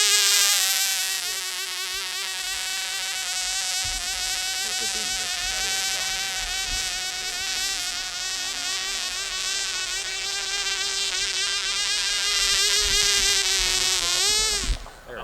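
Glow-powered Gnat model airplane engine buzzing steadily in flight, a loud continuous high-pitched whine held throughout, then leaning out and cutting off right at the end.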